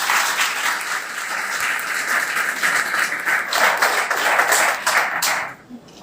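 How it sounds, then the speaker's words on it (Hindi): An audience at an Air Force Day function breaks into sustained, dense applause, loud and even for several seconds before it tapers off abruptly near the end. "जोरदार तालियों से इनका धन्यवाद।"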